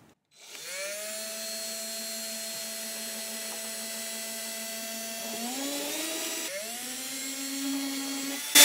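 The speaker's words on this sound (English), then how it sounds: "I'm going to go in here into one of those tang grooves and drill in." A power drill whines at a steady pitch, then shifts speed and bites as it bores into a glued guitar neck joint, ending in a brief louder burst.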